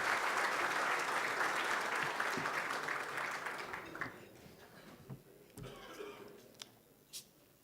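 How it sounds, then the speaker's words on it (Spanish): An audience applauds to welcome a guest speaker, a minister, at a breakfast talk event, clapping loud at first then thinning out to scattered last claps. "le damos paso con un fuerte aplauso a nuestra disertante de hoy"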